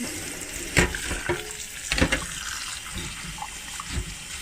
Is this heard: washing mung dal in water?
yes